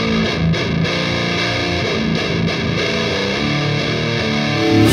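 A low-tuned electric guitar played through an Orange Super Crush 100 amp gives loud, heavily distorted, sustained chords and riffs, thick and continuous throughout.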